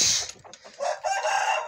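A pet rooster clucks and crows at close range in a household setting, a short burst of raspy, shrill calls filling the moment with no talk over it.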